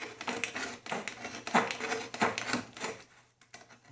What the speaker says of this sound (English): I use a brand new utility knife blade and just score around the deepest part of that groove